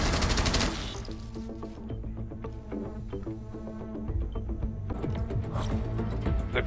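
Gunfire in the mobile tactical shooter Rainbow Six Mobile: loud rapid automatic bursts open the clip, followed by steady crackling shots through the middle and heavier volleys returning near the end.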